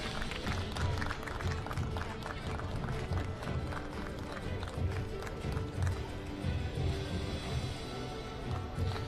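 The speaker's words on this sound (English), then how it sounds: "Ladies and gentlemen, please give a warm applause for our athletes." Crowd applause for athletes at a compound archery World Cup final in Shanghai, a steady dense patter of many hands held at a distance, with murmuring and an announcer's voice faintly mixed in.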